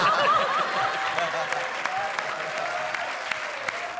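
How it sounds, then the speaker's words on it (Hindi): Loud studio audience applause on a TV comedy show, dense clapping from many hands with a little laughter mixed in and faint music underneath. "जोरदार तालियां शान शकील के लिए"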